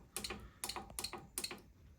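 Four quick clusters of sharp plastic clicks from keys on an Apollo MxPro4400 fire alarm panel keypad being tested, pressed in a brisk, uneven rhythm, close and fairly quiet.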